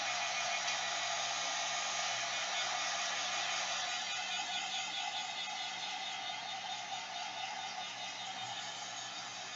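A hair dryer blowing steadily on watercolor paint, a continuous even whoosh at close range that fades slightly toward the end, with no talking.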